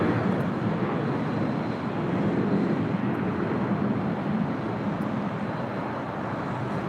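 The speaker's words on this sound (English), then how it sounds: "Delta 477, runway 24 left, clear for takeoff" A Delta airliner taking off from runway 24 left at LAX makes a loud, continuous broadband jet roar, steady and close, with no voices over it.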